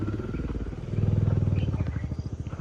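Motorcycle engine puttering close by, its throb rising as it pulls off, then settling into a rapid pulsing idle-like chug as the bike is ridden away.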